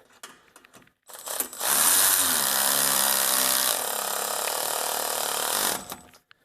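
A power tool spins the lower ball joint nut onto the control arm of a 2002-06 Toyota Camry V6, a loud sustained whirring burst of about five seconds preceded by a few light clicks of handling.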